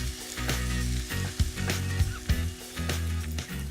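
Bacon frying in a pan for a Caesar salad with pangrattato, a steady close sizzle with crackling spits and a few clattering stirs and tosses.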